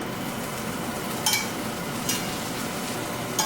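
Asparagus frying in a pan, a steady broadband sizzle that holds evenly throughout, with a few brief louder crackles standing out from the continuous hiss.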